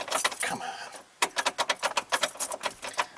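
Car keys on a Chevy key ring jangle close to the mic in a quick run of metallic clinks, pausing briefly before a steady rhythmic series of shakes, during work on a Chevy/GMC EVAP vent fault.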